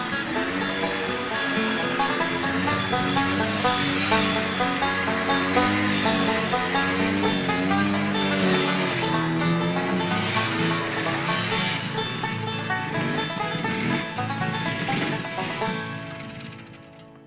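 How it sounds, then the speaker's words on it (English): An ATV running at midnight at a campground, a continuous rough droning engine with wavering pitch at steady volume for the whole stretch, tapering off at the end, with no voices. "that is the sound of an ATV running at midnight at a campground"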